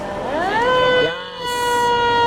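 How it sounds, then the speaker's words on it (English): An airport fire engine, engine 11 at Toronto Pearson International, sounds its Q siren: a loud, close mechanical wail that winds up in pitch, briefly drops, then holds a steady high tone. "Puts the Q on. It's engine 11."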